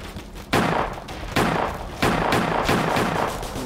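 The sheriff's gun fires in Roblox Choo Choo Charles, loud booming shots at irregular intervals of roughly a second, each with a quick decay over a rumbling game background.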